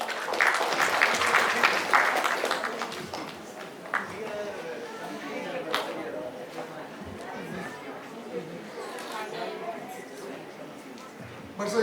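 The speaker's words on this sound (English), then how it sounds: "A big round of applause," An awards ceremony audience gives a round of applause that is loudest at the start, then thins into scattered clapping and crowd murmur, with talking mixed in.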